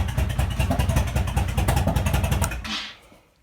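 A Kawasaki Vulcan motorcycle, a little cold, idles after starting with a loud, steady, rapid thumping loaded with low rumble at close range, then the engine note cuts away and fades near the end.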